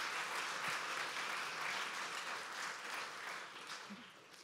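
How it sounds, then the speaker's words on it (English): An audience at an evening opera event applauds in a steady, dense wash of clapping that carries on for several seconds and eases slightly toward the end. "can we give her one more round of applause?"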